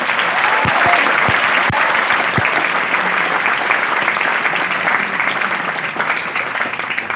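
A large audience at a live event in Patna claps loudly and steadily for Vidyakul, a dense wall of applause that holds for several seconds, with a few sharp claps standing out near the start.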